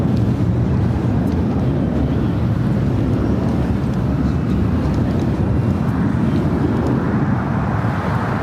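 A United Airlines Boeing 737-900ER takes off at LAX, its jet engines producing a loud, continuous low roar that holds steady throughout with no breaks.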